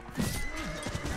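A horse in the video game Mount & Blade lets out a loud, close neigh with a shaky, wavering whinny, set against busy battle clatter and hoof noise.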